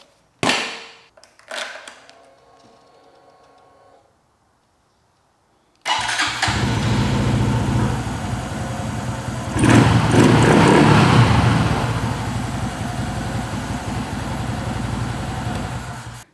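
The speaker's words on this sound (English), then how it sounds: "Let's fire up the bike." A Honda Dax 125 motorcycle, fitted with a LiFePO4 lithium battery, gives a couple of brief clicks. After a few seconds of silence it fires up and settles into a steady, loud, close idle that swells briefly midway.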